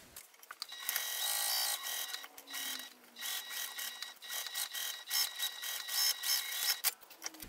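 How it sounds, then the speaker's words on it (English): A sewing machine runs a basting stitch around the perimeter of a fabric treasure keeper, about 1/8 inch from the edge; steady close mechanical whirring and clicking with brief pauses and speed changes, no talk. "I'm going to sew all the way around here"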